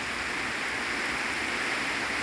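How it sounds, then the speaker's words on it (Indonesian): Steady rain falls on an oil palm plantation with young seedlings, a dense, even hiss of drops that carries on without pause, with no voices. "Ini momen-momen hari hujan."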